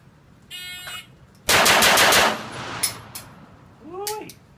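Rapid handgun shots fired in a tight burst on an outdoor range during a 5x5 pistol drill, loud and close, with a shorter burst before and a whistle-like tone near the end.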